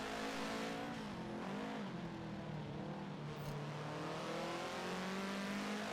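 Rally cars racing on the final lap in a video game, engines droning and revving continuously at close range with shifting pitch as they accelerate.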